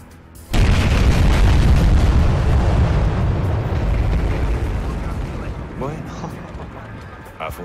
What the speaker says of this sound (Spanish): El laboratorio de metanfetamina ha explotado atrás.